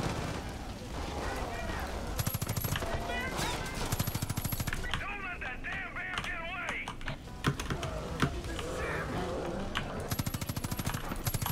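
Rapid gunfire from a Far Cry 5 firefight, bursts of automatic shots crackling near and loud over busy game noise, with someone talking through much of it.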